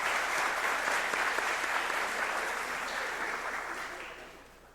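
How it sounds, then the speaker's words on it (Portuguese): Audience applause at a talk series event in Santa Catarina, a steady dense clapping that holds loud and then gradually tapers over several seconds. "Uma salva de palmas, pessoal"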